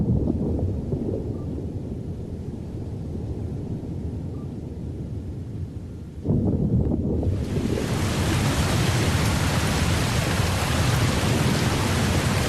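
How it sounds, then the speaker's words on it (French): Sudden torrential rain in Bangladesh pours down in a dense, roaring wash, then suddenly grows even louder and harsher midway, drumming hard on surfaces with no voices. "Pluie diluvienne et soudaine comme ici"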